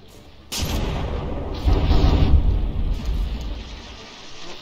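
A battleship fires a shell in the naval combat game From the Depths: one sudden, loud, heavy boom that rolls into a long, low rumble of distant gunfire.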